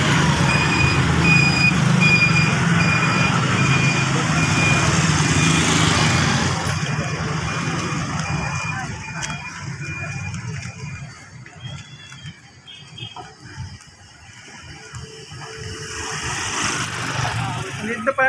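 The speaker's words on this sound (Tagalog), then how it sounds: "Parada ng motor." Motorcycle parade during an Undas procession: an engine drone and rumble that dips for a while and then builds again as bikes pass close by. People talk intermittently over it, and a thin tonal beep is audible near the start.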